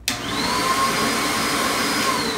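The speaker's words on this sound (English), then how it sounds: "turn it on, and you go to vacuuming" A backpack vacuum cleaner switches on with a sudden burst and settles into a loud, continuous whine with a steady motor hum, close by and without any talk.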